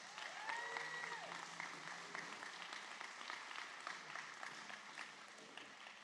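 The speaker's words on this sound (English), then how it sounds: "So let's give everybody a round of applause" An audience at a sustainability decathlon speaker series gives a round of applause, a soft, sustained wash of many clapping hands that eases slightly toward the end.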